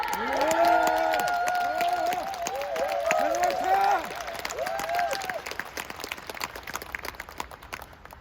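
A seminar audience at a Bangkok leadership training applauds, with rising and falling whoops and cheers over the clapping at first, then scattered claps trailing off more faintly.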